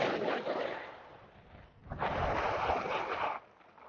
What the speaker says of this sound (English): You hear that noise? That's ice.